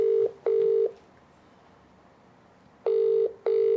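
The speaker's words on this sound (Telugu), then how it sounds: "కాల్ కొట్టు ఒకసారి" Ringback tones of an outgoing phone call, two pairs of steady beeps separated by a long quiet gap, clear and alone with no talking.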